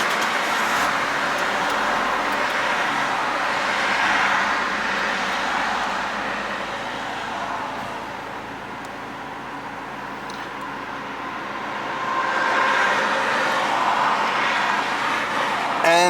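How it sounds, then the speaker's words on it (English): An Opel Corsa C 1.2 engine idles after a throttle body cleaning, a steady smooth low hum heard nearby under a broad airy background, with a voice speaking. "And the idle is way smoother"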